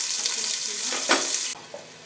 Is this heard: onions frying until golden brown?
yes